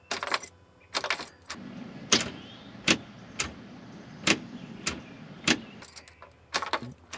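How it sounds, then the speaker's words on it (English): Keys jangle and click repeatedly as a key is turned over and over in the ignition of a side-by-side utility vehicle with a dead battery, sharp close clicks at a steady, uneven rhythm with no engine catching. "Turning the key over, it is dead."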